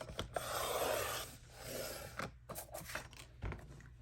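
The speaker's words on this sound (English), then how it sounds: "I just trimmed it to 6 3/4." Card stock trimmed to size on a paper trimmer for an A2 envelope: a close, quiet scraping slide of the blade through the paper, followed by a few short taps and rubbing sounds.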